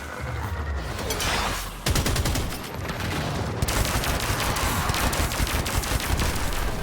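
Rapid game gunfire from the shooter Warframe as flying enemies are shot down with an amp: dense, continuous bursts of shots with a brief break near the two-second mark, loud and close throughout.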